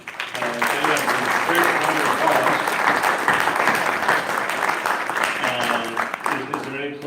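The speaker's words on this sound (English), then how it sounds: "great round of applause" Audience applause for panelists at a panel discussion on Texas oysters: sustained, fairly loud clapping from a crowd, with voices heard speaking at the start and end.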